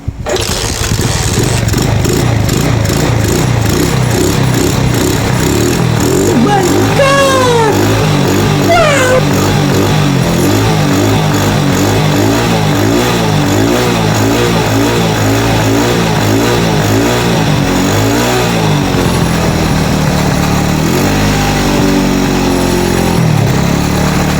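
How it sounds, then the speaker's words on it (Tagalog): A motorcycle engine idles steadily and loudly after being started, with a continuous low rumble, close to the microphone, and no talk over it. "napaandar na natin ang motor"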